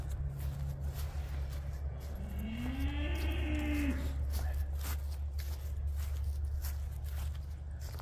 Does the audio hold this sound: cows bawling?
yes